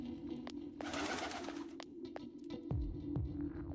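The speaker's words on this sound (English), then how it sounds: "Why did that, like, loud-ass bird noise terrify me?" A loud bird noise in Persona 4 Golden, a throbbing cooing call like a pigeon or dove sounding over a steady low hum, with a burst of hiss and a few sharp clicks.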